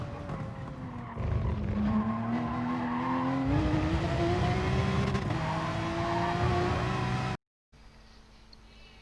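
Race car from a racing video game at the Catalunya circuit, loud engine note holding high then dropping in pitch under braking with tyre squeal, then climbing again on throttle, with a brief cut to silence near the end.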